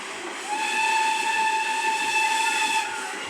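A steam locomotive whistle sounds in a steady, sustained tone over a wash of hissing steam, heard from beside the train on a rail journey and fading slightly at the end.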